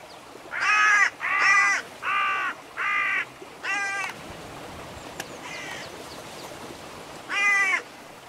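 Hooded crows give a run of loud, harsh caws, four in quick succession, then a weaker caw and a fainter distant one, and a final loud caw after a pause.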